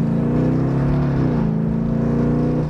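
A 1968 Plymouth Road Runner clone convertible's big V8 with a 446 engine and six-pack carburetion roars under hard acceleration, a loud sustained engine note rising in pitch, heard from inside the car with no talking.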